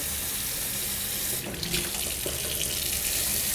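Water runs steadily from a tap, a constant close hiss and splash that shifts slightly midway through.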